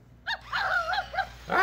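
A WowWee Dog-E robotic toy dog gives a quick series of short, high yapping barks, close and fairly loud, with no talking.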